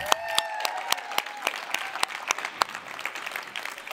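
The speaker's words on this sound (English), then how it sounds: "One big round of applause for Clayton." A small audience claps for a few seconds, with scattered, uneven hand claps at moderate distance and faint whistles underneath, no speech.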